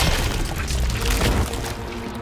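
A torpedo blast in a Mortal Kombat 1 fatality lands as a dense, loud boom with crashing, shattering debris and a splashy, liquid tail, filling the whole short moment before easing off.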